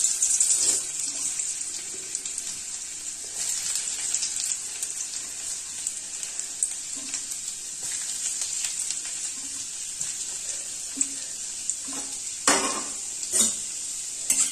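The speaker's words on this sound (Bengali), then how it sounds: "এই যে তেল গরম হয়ে গেছে, এবার এর মধ্যে আদা রসুনের কুচি দিয়ে দিলাম।" Chopped ginger and garlic hit hot oil and fry with a continuous, moderate sizzle. Occasional scraping and stirring knocks rise above the sizzle, and it grows louder near the end.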